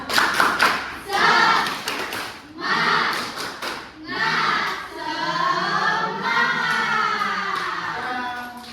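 Primary school class doing the tepuk semangat chant: rhythmic bursts of group clapping and desk thumps alternate with children loudly chanting in unison, close and lively.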